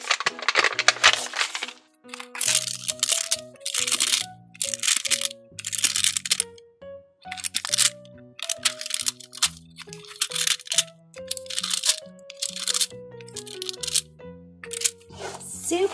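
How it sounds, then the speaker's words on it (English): Stickers peel off a sheet in quick, crisp crinkling bursts repeated many times, close and fairly loud, with gaps between and a melody running underneath. "we can remove all of these stickers and apply them to our purse"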